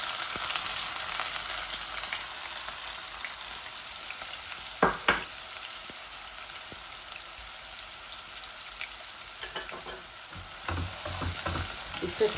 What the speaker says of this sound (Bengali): রসুনটা একটু ভাজা ভাজা হয়ে যাক, তারপরে পেঁয়াজ দিব।